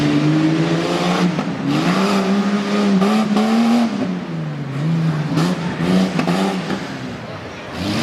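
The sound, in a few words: tough truck racing around dirt course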